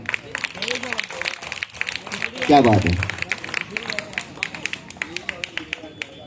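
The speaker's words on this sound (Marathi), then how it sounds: "तर त्यांच्यासाठीचा जोरदार टाळ्या होऊन जाऊन द्या." A crowd at a Shivaji Jayanti celebration claps, with a brief surge of cheering followed by steady rhythmic clapping, all under someone speaking loudly over it.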